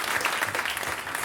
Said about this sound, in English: Give me a round of applause if you've ever heard Do Go On before.